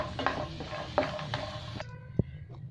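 A spoonful of ghee in a hot pan for carrot halwa, a soft sizzle with spatula scrapes and a few clinks against the metal, then a single sharp knock as the sound cuts off.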